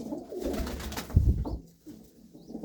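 A pair of pigeons coo, a red Cheena male with a black-marked hen, in a few soft low rolling calls close by, with a brief louder burst in the middle and quieter stretches around it.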